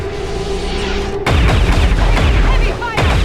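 Heavy gunfire in the turn-based tactical game XCOM 2: after a steady hum, a loud burst of booming shots sets in and rolls on for about two seconds, close and dominant, with a brief dip near the end.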